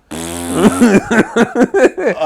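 Fart noise sound effect: a long, drawn-out blast followed by a run of short, sputtering bursts, loud and close with no other sound.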